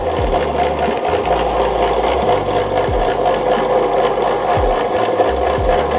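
A home ice cream maker churns a caramel ice cream mixture, giving a steady mechanical motor drone with a repeating low rhythmic thump from the turning paddle, loud and close with no talk.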